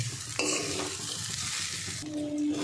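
Rice for hilsa pulao crackles and sizzles loudly in a hot pan, with steady frying hiss and brief stirring scrapes.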